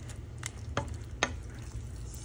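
Shrimp are stirred into a pork stir fry in a pan, a low sizzle running underneath a couple of distinct spatula scrapes and clinks, close and moderately loud with no voices.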